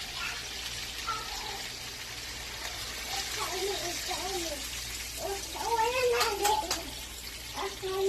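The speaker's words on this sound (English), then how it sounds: "we have to add water now to the pot and keep cooked down" Water poured from a container into a pot of Jamaican curry chicken on the stove, a steady splashing trickle that grows louder toward the end, with people talking in the kitchen.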